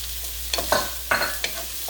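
Green peppers frying with fresh corn in a skillet, a steady sizzle broken by several scraping stirs of a spoon, close and fairly loud.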